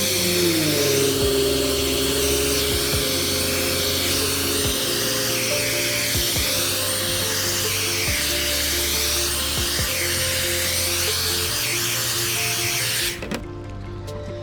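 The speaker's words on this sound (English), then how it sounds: "we'll hit it with a hair dryer." A hair dryer runs with a steady, loud whining motor and high airy rush, drying spray paint on a Lexan body, continuously for most of the stretch, then cuts off abruptly near the end.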